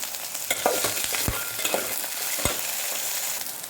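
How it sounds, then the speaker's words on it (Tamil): Okra sautéing in oil, a steady sizzle with a few sharp clinks of a utensil stirring the pan. "வெண்டைக்காயை முதல்ல நறுக்கி கொஞ்சோண்டு எண்ணெய் போட்டு இந்த குழப்பு போகிறதுக்காக வதக்கிக்கணுமா"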